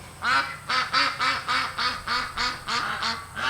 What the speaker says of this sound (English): Some ducks talking to me.